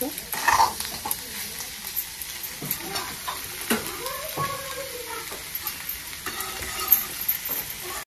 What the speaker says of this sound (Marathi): तर 2 मिनिटासाठी मी तेलामध्ये चांगली भाजी हलवून घेतली